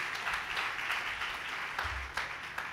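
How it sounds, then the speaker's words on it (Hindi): A church congregation gives a welcoming round of applause for the pastor at a Sunday service, with a steady wash of clapping from many hands lasting throughout. "हम सब तालियों के साथ उनका स्वागत करेंगे।"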